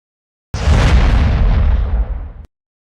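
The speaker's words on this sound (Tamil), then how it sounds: "வில்லியனூர் பகுதியில் விஜய் ரசிகர்கள் பட்டாசு வெடித்து இனிப்புகள் வழங்கி உற்சாகமாக கொண்டாடினர" Firecrackers go off at a street celebration by film-star fans in Villianur, Puducherry. A loud, dense crackling barrage erupts abruptly, roars for about two seconds and then cuts off into silence.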